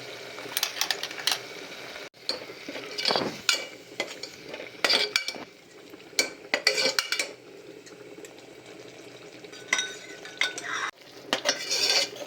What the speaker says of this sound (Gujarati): આ રીતે હલાવતા રહીશું।